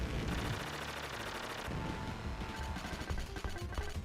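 Rapid retro video game gunfire from Contra Hard Corps, a dense stream of shots with bursts of explosion noise layered over busy game music.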